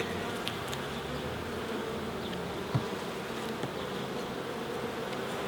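Honeybees buzzing around an opened hive during a beekeeping inspection, a dense steady drone of many insects close by, with faint handling knocks and no talk.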